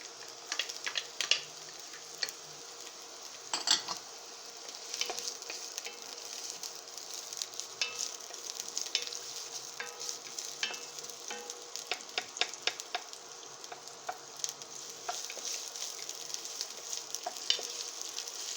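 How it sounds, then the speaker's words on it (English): Chopped onions and garlic frying in oil in a pan, giving a continuous close sizzle with dense crackling pops and small stirring scrapes, with no voices. "I am gonna add to the oil some chopped onions. I am also gonna add some chopped garlic."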